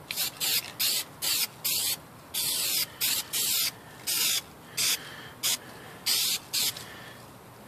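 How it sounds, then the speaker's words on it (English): A spray can of primer sprays onto a refrigerator's side molding in short, loud hissing bursts, about a dozen of them in a broken rhythm with brief pauses between. "spray can primer."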